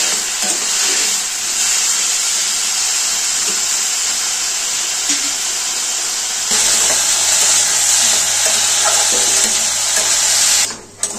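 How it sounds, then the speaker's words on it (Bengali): Sliced potatoes, rinsed in water, fry in hot oil for a Bengali aloo posto, giving a loud, steady sizzle and hiss throughout with occasional stirring, and a brief dip near the end. "আলুগুলোকে দিয়ে দেবো তেলের মধ্যে। আলুটাকে লাল লাল করে ভেজে নেব।"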